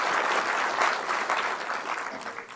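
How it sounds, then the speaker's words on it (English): An audience claps for Professor B M Hegde, a dense, steady round of applause at moderate volume with no voices over it. "let's give a big round of applause to Professor B M HEDGE"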